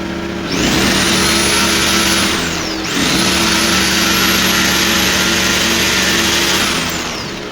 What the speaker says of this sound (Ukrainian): Мережевий перфоратор на 780 Вт потужності.